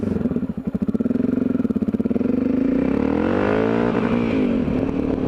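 A Yamaha XT660Z Tenere single-cylinder motorcycle accelerating hard enough to lift the front wheel, throbbing engine pulses rising in pitch then settling, loud and close with wind noise.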